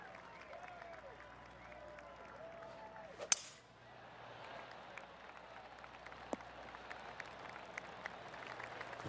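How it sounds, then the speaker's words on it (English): A polite golf clap rises from a gallery of spectators in the PGA 2K23 video game, a soft, steady patter of scattered claps with a brief sharp burst near the middle. Light game music and occasional voices sit underneath. "Oh, golf clap."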